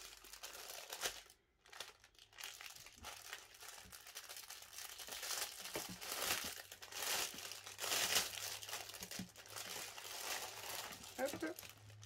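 Packaging paper crinkles and rustles steadily while a cross-stitch kit is unboxed, close and fairly continuous with short crackling bursts, and a voice talks intermittently over it.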